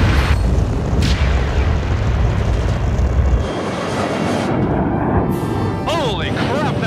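SpaceShipOne's rocket motor ignites after release from its carrier mothership at about 50,000 feet, a loud, harsh roar that dominates at first and then drops away into a thinner rushing noise.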